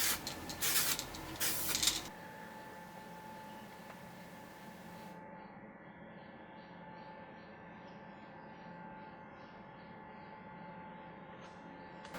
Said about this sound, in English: I'm also gonna spray paint it black to make it look a little bit better.